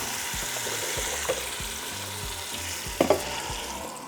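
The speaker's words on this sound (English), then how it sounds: "I'm going to be adding beef broth." Beef broth going into a hot Instant Pot for carnitas en chile verde, a continuous moderate sizzle and hiss with a couple of sharp clinks and splashes near the end.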